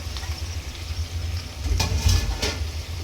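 Fish curry with green chillies frying in a pan, a low steady sizzle with a few scraping stirs of a spoon against the pot near the end.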